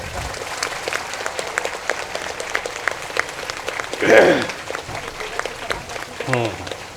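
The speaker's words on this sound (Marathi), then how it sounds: "सर्वांनी एकदा जोरदार टाळ्या वाजवायच्या आहेत भीमराव आंबेडकर साहेबांचा" A crowd at a Buddhist vihara gathering in Jay Bhim Nagar, Powai, Mumbai, honouring Dr. Babasaheb Ambedkar, claps steadily for several seconds, a dense spread of hand claps with a voice heard over it.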